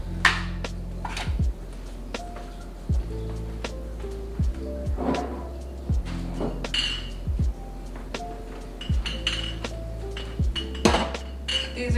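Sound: washing breakfast dishes, clinking dishes and cutlery

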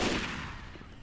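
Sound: gunfire in the video game Left 4 Dead 2

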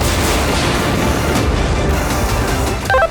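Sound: self-propelled artillery gun firing

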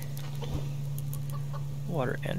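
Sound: chickens clucking in Subsistence video game

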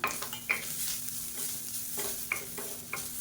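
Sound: grated coconut sautéing in ghee in a pan

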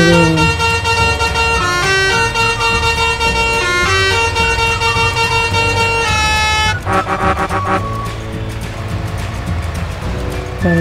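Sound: car horn honking in a farming simulator video game

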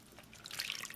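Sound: rinsing Bing cherries in water in the sink

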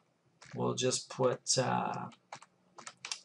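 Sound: typing on a computer keyboard

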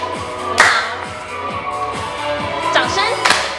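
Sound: hand clapping in an aerobics class

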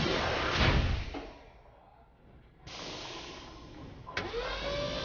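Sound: bowling alley pinsetter sweeping pins

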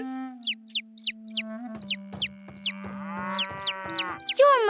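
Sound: chick

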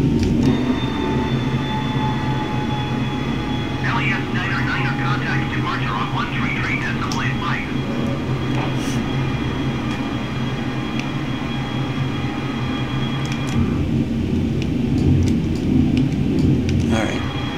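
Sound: Boeing 747 jet engines during takeoff climb

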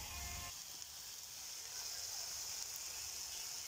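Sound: food frying on a saj pan

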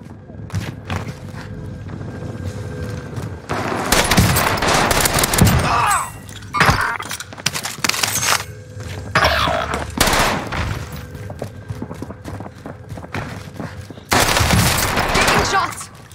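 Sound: gunfire in the video game Warzone (Rebirth Island)

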